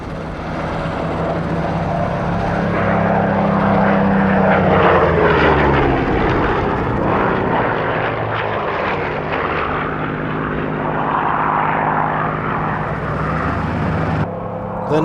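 A Supermarine Spitfire propeller fighter, built at Castle Bromwich in Birmingham, roars past at a Duxford airshow with a loud, continuous piston-engine drone that swells and shifts in pitch as it flies by.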